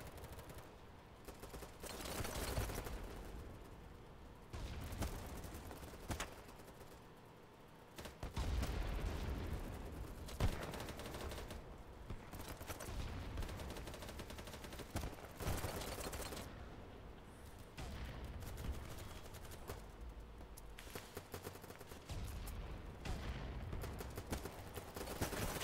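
Gunfire in the BattleBit Remastered video game: dense, continuous bursts of automatic weapon fire mixed with single shots and occasional heavier blasts, loud and sustained throughout with no pauses.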